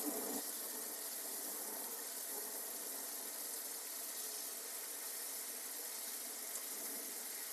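Steady rushing water flows continuously from an open valve while filling a large plywood aquarium, a broad even hiss, loud and unbroken throughout.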